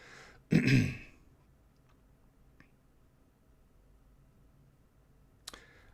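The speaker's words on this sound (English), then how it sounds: "I've been coughing and clearing my throat" A single loud throat clearing from someone on a live-streamed card game discussion rings out close to the microphone near the start, followed by quiet room tone and a brief faint click at the end.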